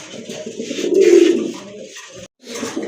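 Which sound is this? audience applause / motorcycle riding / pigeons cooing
pigeons cooing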